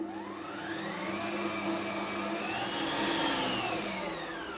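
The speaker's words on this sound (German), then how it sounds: "So, 5 Minuten knete ich schon den Teig." A kitchen machine kneads sticky, runny zucchini bread dough with a steady, loud motor whir and a slowly shifting pitch, running alone without talk.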